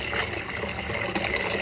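Hot water pours from taps while cotton yarn is rinsed, a close, loud, steady rush of running water with no pauses.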